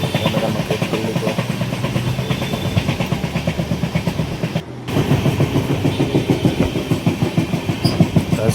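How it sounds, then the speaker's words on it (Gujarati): A train runs on the tracks near Mehsana Junction, with a loud, close rhythmic clickety-clack of wheels over rail joints and a continuous rumble, heard from on board with no talking. "પાછળ ચાલુ થઈ ગઈ છે ટ્રેન"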